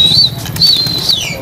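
A flock of pigeons flaps overhead, a close, loud flurry of wingbeats mixed with brief high chirps and wind noise.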